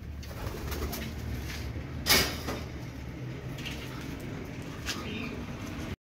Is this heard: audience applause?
no